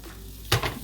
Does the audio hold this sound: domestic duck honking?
no